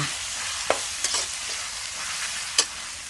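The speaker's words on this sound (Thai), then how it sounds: "จากนั้นก็ผัดต่อเลยค่ะ ผัดคลุกเคล้าให้ส่วนผสมทุกอย่างเข้ากัน" Wide rice noodles and pork being stir-fried in a wok, with a steady hiss of sizzling oil broken by a few sharp scrapes and clacks of the spatula against the pan.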